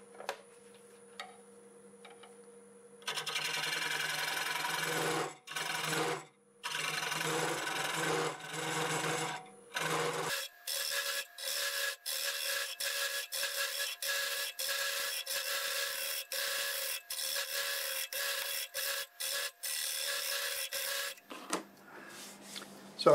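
A gouge scrapes and rasps against a spinning hackberry wood pot on a wood lathe running at about 650 rpm, in bursts of rhythmic cutting broken by short pauses, with a steady motor tone underneath and no talking.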